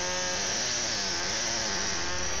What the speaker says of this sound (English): The surface redressing of the stone used a pneumatic air chisel to remove the loose fragments from the surface.